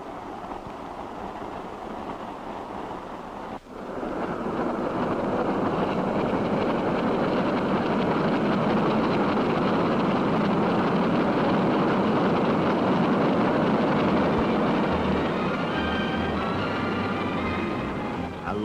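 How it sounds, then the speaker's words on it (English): A 1950s steam-era train crosses a viaduct at night with a steady, loud roar of steel on steel. A sharp knock comes first, then the rumble swells and holds for the rest of the run. "Passengers on the night expresses may wake, hear the roar of steel on steel, and sleep again"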